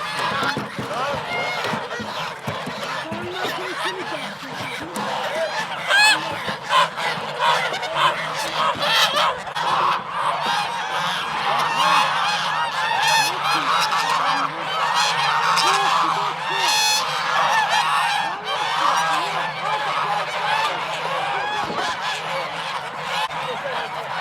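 A flock of geese honks continuously and loudly at close range, a dense overlapping chorus of calls that never lets up, with people's voices mixed in underneath.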